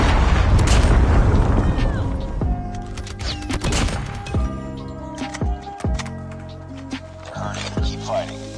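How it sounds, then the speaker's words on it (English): A predator missile strike explodes in the mobile shooter COD Mobile: a heavy booming blast that rumbles and decays over a few seconds, followed by scattered gunfire and game effects, with game announcer voices over it. "Friendly predator missile inbound."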